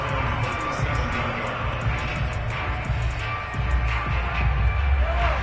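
A stadium crowd at a Chiefs football game gives a steady, distant roar and murmur, slightly subdued, with faint scattered cheers rising near the end.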